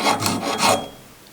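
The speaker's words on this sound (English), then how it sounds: "I'm just using a tapered saw sharpening file because it's what I have that's small enough and sharp enough to get in there" Tapered saw-sharpening file rasping on the steel of a dado plane, a few quick close strokes in a row that then fade into quiet.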